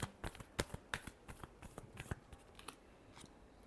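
Quiet, close shuffling of tarot cards, a string of soft papery flicks and slaps that thins out toward the end, with no voices.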